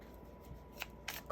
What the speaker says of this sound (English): Actually, I'm going to pull another card too.